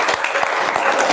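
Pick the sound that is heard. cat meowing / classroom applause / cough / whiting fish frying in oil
classroom applause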